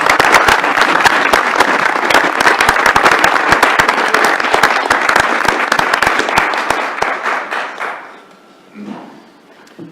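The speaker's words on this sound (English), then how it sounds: "let's give our presenters a round of applause" A meeting room audience gives presenters a round of applause, dense loud clapping that holds steady for several seconds, then thins out and fades to a few scattered claps and quiet.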